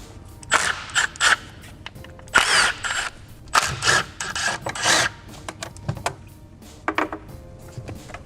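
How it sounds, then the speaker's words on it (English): A 1/4-inch impact wrench removes the oil pan bolts on an Audi DL501 transmission, firing in a series of short rattling bursts separated by pauses, close and fairly loud. "I'm going to use my 1/4-inch impact,"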